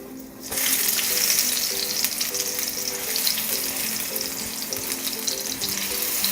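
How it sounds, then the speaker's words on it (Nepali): Eggplant slices frying in a pan of oil, a loud dense sizzle that starts suddenly and then holds steady throughout, heard up close with no one talking. "एकदमै मजाले यो फ्राई भएको छ"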